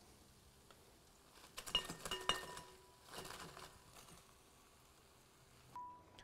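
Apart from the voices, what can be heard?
chicken wings being put into a bowl, clinking dishes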